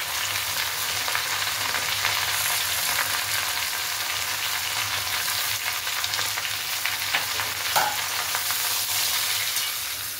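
Vegetables including carrot, sweet potato, green banana and long beans fry in a wok, a loud continuous sizzle with occasional stirring scrapes close by and no voices.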